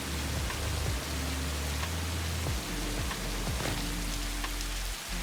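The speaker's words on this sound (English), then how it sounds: "Everything does look cool in the rain. But the sound is so loud." Steady loud rain pours down in the Satisfactory factory-building game, a dense wide hiss of drops with low droning machinery hum underneath, continuous throughout with no talk.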